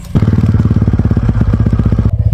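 A TVS Ronin 225cc motorcycle engine idles loud and close, a steady throbbing pulse with mechanical clatter running throughout and no voices.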